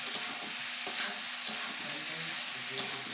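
Drumstick curry with spice paste, coconut and tomato is stirred in a pan, a close, continuous sizzle with scraping strokes of the spoon at irregular intervals and no talking.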